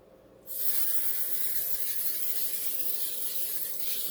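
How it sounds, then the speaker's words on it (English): Cooking spray is misted onto a pan for a batch of persimmon cookies: a close, steady hiss that starts abruptly and runs unbroken for about three and a half seconds. "Spray it really good."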